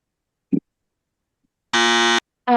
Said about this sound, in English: Kids, click the buzzer.